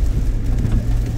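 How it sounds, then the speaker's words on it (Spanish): Steady rain falls on a wet asphalt road in Puerto Rico, a dense, continuous low hiss and patter with no voices, held at an even level throughout. "Ha comenzado a llover"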